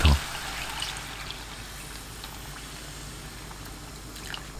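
Kimchi juice and water pour into a pot of kimchi and scorched-rice porridge, a steady close liquid rush with a brief clatter at the start.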